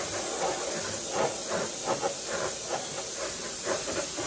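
Spray paint hisses steadily as light candy coats go onto a 1956 Ford R/C car body, a continuous near airy spray with slight pulses from passes.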